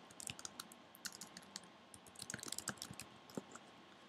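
Keys on a computer keyboard tapped out in quick irregular bursts while a sentence is entered into a design program, close and fairly quiet, with no voices.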